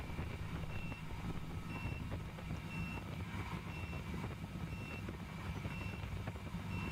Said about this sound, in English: I hear a truck backing up.